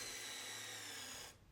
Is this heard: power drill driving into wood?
yes